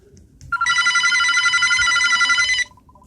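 A telephone ringing inside a video game, one loud, continuous electronic bell trill lasting about two seconds, close and clear over faint background noise.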